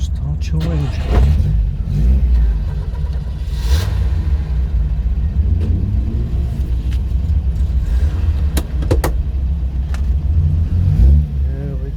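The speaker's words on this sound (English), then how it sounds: "Start your engine." A classic car engine on a UK drive day, an Aston Martin event, running loud with a heavy low rumble and rising revs from inside the car, while a person talks over it.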